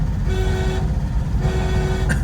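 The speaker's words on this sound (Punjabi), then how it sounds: "ਇੱਥੇ ਲੰਬਾ ਜਿਹਾ ਹੌਰਨ" A car horn blares in long, sustained honks at a turn during driving-school practice, over the low rumble of road traffic.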